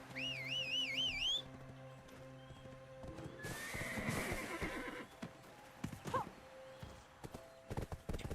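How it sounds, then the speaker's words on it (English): Video game horse summoned in a fantasy setting: a whistle call, then a clear neigh and a run of clip-clopping hooves drawing near, the steps continuing in short bursts afterward. "Let me call the horsey."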